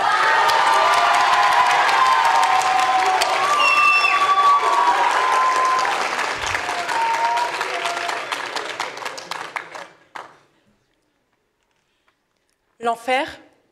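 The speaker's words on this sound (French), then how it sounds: "Applaudissez très fort" Applause and cheering from a school audience at a 2020 high-school eloquence contest in Montreuil, loud and sustained for about ten seconds with whoops and talk mixed in, then dying out to silence before a single voice begins speaking.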